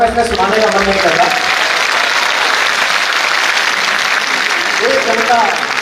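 An audience applauds during a speech, a dense, sustained clatter of clapping from a large crowd, with a voice briefly at the start and again near the end.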